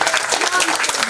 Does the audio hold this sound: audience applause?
yes